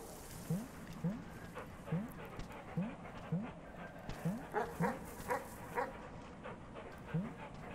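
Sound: dog barking in the video game Animal Well

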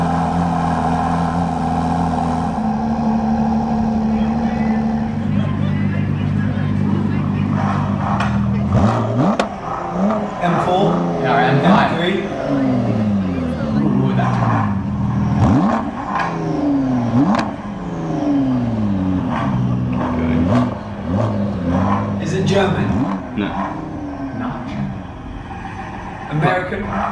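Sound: Ford Focus RS engine revving

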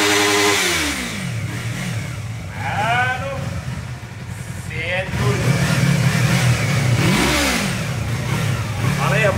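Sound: Yamaha MT-03 motorcycle engine warming up and revving

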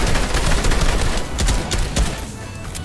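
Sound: gunfire spraying in the video game Fortnite

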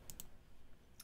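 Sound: computer keyboard clicks while playing a game

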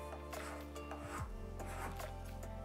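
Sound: card scraper scraping wood into shavings

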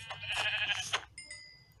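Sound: sheep bleating in Minecraft video game

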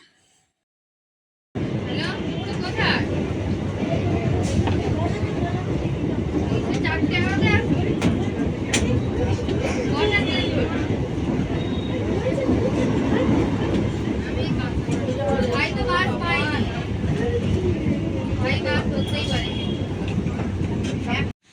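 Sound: train ride to Kanchrapara

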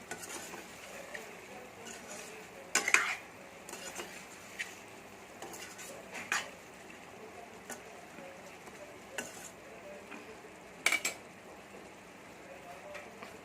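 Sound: stirring chicken gravy in a pot

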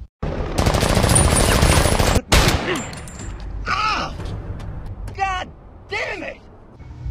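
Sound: gunshots in film

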